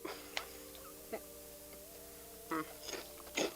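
Several brief crisp crunches of a snack being chewed close up, scattered irregularly over a steady low hum.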